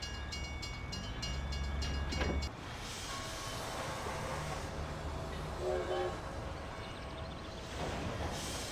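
Train rolling past in the Mafia: The City of Lost Heaven game, a loud, steady rumbling roar of wheels and carriages with tonal hum, continuous throughout and close by.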